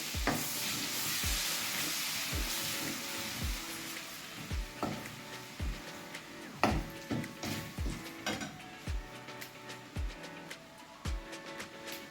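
A spoon stirs thick ginger-chili masala paste in a frying pan with a gentle sizzle, scraping in a steady rhythm of repeated knocks against the pan.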